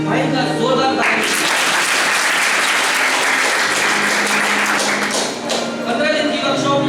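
Loud, sustained applause from an audience at a theatre event, dense clapping from start to finish with a brief dip near the end, over the sound of people talking.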